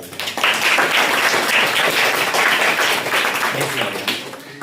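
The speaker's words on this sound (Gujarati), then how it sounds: "મિતાલી માટે જોરદાર તાળીઓ." A classroom of students applauding a pupil, a dense, loud burst of clapping that starts abruptly, holds steady, then tapers off at the end.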